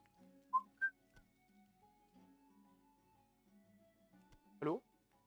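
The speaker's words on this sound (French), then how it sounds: "Oh là, bizarre, je siffle et ça marche pas." A man whistles in short bursts while playing World of Warcraft Classic: two quick high chirps early on and a louder rising whistle near the end, over a quiet game music background.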